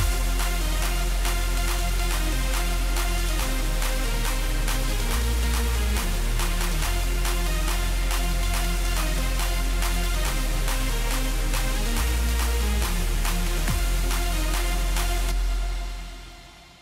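Electronic chorus section built on a wide synth melody, with steady kicks and claps, a deep bass line and a white-noise layer, loud and dense throughout until a brief fade at the end.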